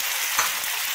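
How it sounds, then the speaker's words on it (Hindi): Potatoes, tomatoes, ginger and garlic fry in a pan with a continuous close hiss and sizzle, plus a brief stirring scrape near the middle. "और अच्छे से भूनेंगे"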